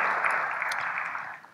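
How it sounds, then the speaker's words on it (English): Brief applause from an audience at a CEO summit panel in Ghana, a dense wash of clapping that tapers off over a second and a half. "A round of applause for him"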